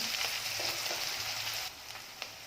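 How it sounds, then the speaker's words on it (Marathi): Onions fry in oil in a pan with a close, steady hiss and crackle, a few light stirring taps, softening slightly toward the end. "कांद्याला तेल सुटेपर्यंत कांदा परतून घ्यायचा आहे"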